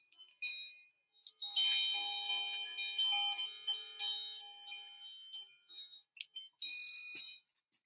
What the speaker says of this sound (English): These sound like Italian church bells.